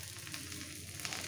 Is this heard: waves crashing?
no